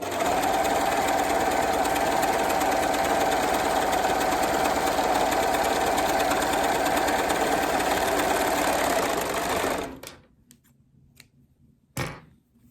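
An overlock sewing machine rolls a hem on a fabric edge, running at a steady, high-pitched mechanical whir for about ten seconds. It then stops abruptly, followed by a couple of short clunks.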